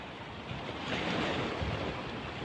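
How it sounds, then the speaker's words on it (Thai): A strong, continuous roar of rushing water pours from a canal floodgate released toward the sea in Samut Prakan, with a dense low rumble that swells slightly midway, heard from a distance amid wind. "น้ำแรงมากเหมือนน้ำตกเลย"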